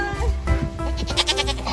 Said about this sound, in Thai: อุ้มแพะเพียบเลย